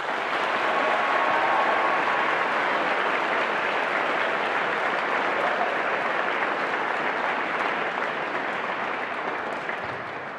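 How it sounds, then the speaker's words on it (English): Sustained applause from a school assembly audience honoring veterans among the teachers and staff, a steady, dense wash of clapping that holds evenly for about ten seconds with no talk over it. "Can we please give them a round of applause?"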